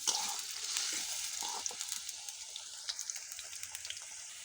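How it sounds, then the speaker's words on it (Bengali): Potato pieces fry in hot oil while being stirred, a dense close sizzle with scattered crackles and light scraping, easing slightly toward the end. "আমি এখন আলুগুলো বাদামি করে ভেজে নিতে হবে মিডিয়াম আছে। নেড়ে ছেড়ে বাদামি করে ভেজে নিলেই হবে।"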